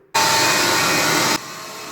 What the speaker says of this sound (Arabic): هلا رح نشغل الخلاط لمدة 5 دقائق.